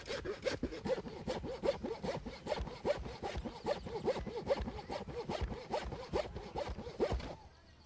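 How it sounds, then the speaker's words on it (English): A hand saw rasps back and forth in a steady, even rhythm of strokes, close and loud, stopping just at the end. "While George is sawing along that line"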